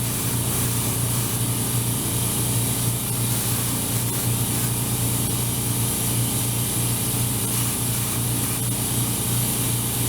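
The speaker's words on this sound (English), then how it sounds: "Spraying it on the back of my hand." A continuous loud hissing spray with a steady mechanical hum underneath runs unbroken throughout, with no talking: an airbrush spraying paint onto the back of a hand while weathering a model locomotive.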